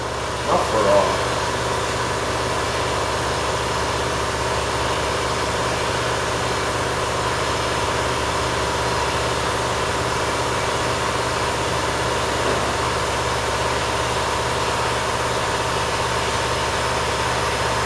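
An International Cub Cadet 482 garden tractor engine running with the muffler removed, a steady loud idle drone held throughout with a brief clatter near the start.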